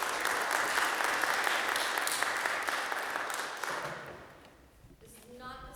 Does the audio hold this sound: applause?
yes